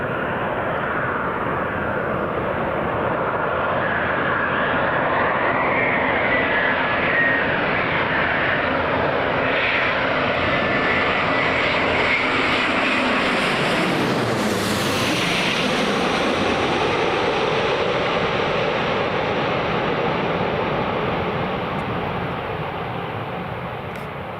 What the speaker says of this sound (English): The Emirates A350 landing.